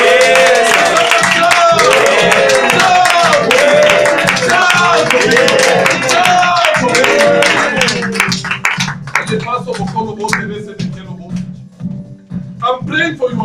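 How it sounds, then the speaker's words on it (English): A church congregation claps and shouts together in a loud, dense burst of hand claps and raised voices that continues for several seconds before thinning into scattered claps and calls. "May somebody clap. May somebody shout."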